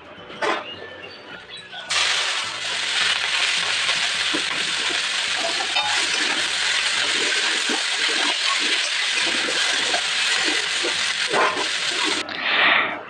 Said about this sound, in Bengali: সবার প্রথমে আমি শাকটা ভেজে তুলে নেব।